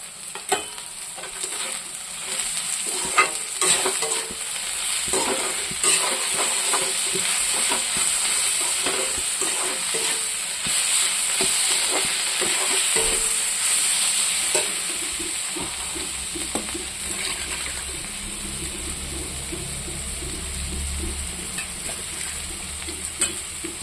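Dry fish and brinjal chutney fries in a pan with turmeric, dried chilli powder and crushed garlic and chillies, giving a loud, continuous sizzle broken by scraping stirs throughout, with no one speaking.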